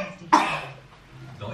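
A single short cough bursts out near the mic, followed by quiet room noise and faint background voices.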